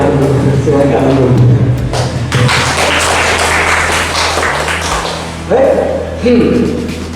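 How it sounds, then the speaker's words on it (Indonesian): A room of people applauds during a presentation session, a dense wash of clapping lasting a few seconds, with voices talking before and after it. "kita kasih tepuk dulu"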